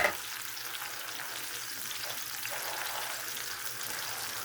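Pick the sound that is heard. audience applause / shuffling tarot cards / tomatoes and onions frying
tomatoes and onions frying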